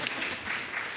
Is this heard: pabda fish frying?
no